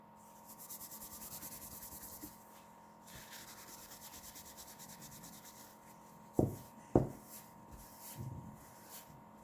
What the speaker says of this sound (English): I'm just going to keep rubbing off, and you're going to get little peaks of that glitter through